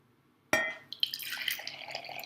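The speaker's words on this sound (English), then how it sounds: "all I'm doing in the final part of this demonstration is straining the soap nut liquid" Homemade soap nut liquid strained into a container, starting with a sudden close splash followed by a steady trickle and small irregular drips, quiet and alone.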